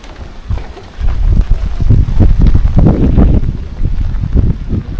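Steady rain with wind buffeting the microphone during a wet motorcycle ride around Gradiste and the Bay of Bones near Ohrid, a dense rumbling wash that swells after the first second and holds loud and close.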